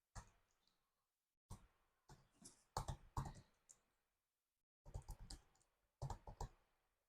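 Someone types on a computer keyboard while writing code, in short irregular bursts of quiet clicking and tapping separated by pauses of silence, close and soft with no speech.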